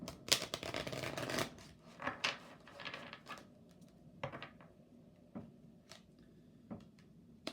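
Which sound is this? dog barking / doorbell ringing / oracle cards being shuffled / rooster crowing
oracle cards being shuffled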